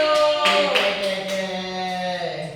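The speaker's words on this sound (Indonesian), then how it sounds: "yuk tepuk tangan dulu" Hands clapping in a classroom during a senior high school English lesson, a short burst of scattered applause layered over a steady background hum, fairly close and moderately loud.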